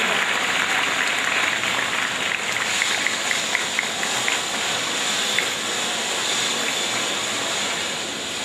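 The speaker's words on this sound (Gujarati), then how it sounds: "જોરદાર તાળીઓથી તેઓને વધાવીએ" Sustained, dense applause from a large audience welcoming guests at a charity donation ceremony, a steady roar of clapping with no gaps from start to finish.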